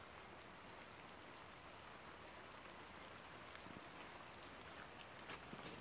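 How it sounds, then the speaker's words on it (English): Steady rain patters down in a dense, even hiss, with occasional heavier drops standing out. No voices. "It's raining here, so bear with me."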